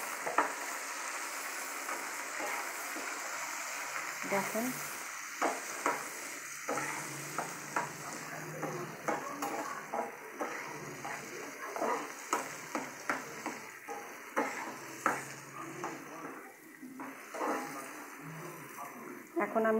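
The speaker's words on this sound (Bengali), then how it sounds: "একটু বরবটি আলু এগুলো একটু ভাজা দেবো" Yardlong beans and potatoes fry in a pan with a steady sizzle, punctuated by repeated scraping stirs in an irregular rhythm, while a person talks intermittently over the cooking.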